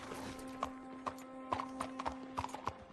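Horse hooves clip-clopping at an unhurried walk in the video game Red Dead Redemption 2, crisp irregular knocks over a low steady hum, with no talking.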